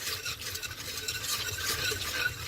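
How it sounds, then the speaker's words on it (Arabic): Flour being stirred in oil in a pan while making Moroccan sellou: a steady, soft scraping and swishing of the spoon with a faint sizzle underneath, close and unbroken. "استمريت في التحراك ديال الطحين ديالي مع الزيت حتى كيولي اللون ديالها على هذا الشكل."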